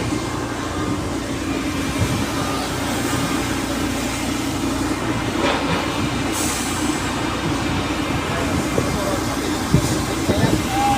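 A FastCat ferry arrives at Matnog port, a low steady engine drone and rumble with harbor ambience, while people talk nearby.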